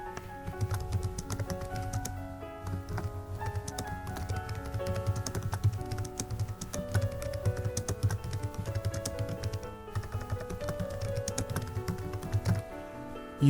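Computer keyboard being typed on steadily, a quick irregular patter of close key clicks with brief pauses, running alone without talk.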